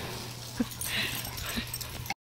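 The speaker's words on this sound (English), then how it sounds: "most of my vlog is gonna be dogs playing" Dogs play with a water hose on a Sunday outdoors, giving a couple of short yips and whimpers over a constant splashing hiss, fairly close, ending abruptly.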